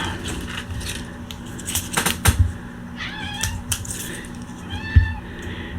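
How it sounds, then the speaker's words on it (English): A cat meows several times in short, rising calls amid clicking and rustling nearby, fairly close and moderately loud. "My cat says it's time for her wet food"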